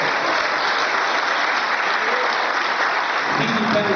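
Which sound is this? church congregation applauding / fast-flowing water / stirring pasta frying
church congregation applauding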